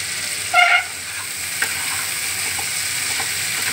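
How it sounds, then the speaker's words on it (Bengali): Chili fish frying in a pan on a home stove gives a steady loud sizzle, with a brief squeak from stirring near the start and a soft clink, and no voices. "আমরা তো আজকে ইয়েদের মতন প্রফেশনাল মতন এরকম নাড়ানাড়ি করতে পারছি না"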